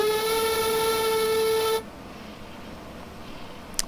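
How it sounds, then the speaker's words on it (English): A BR41 2-8-2 steam locomotive whistle in Train Simulator Classic sounds one steady, loud, harmonically rich blast lasting nearly two seconds and then cuts off abruptly without a tail, leaving only faint background noise. "where's the whistle? Oh, there it is."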